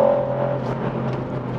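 Ford Puma ST engine drones steadily from inside the cabin while the car drives through corners, a continuous moderate hum without speech.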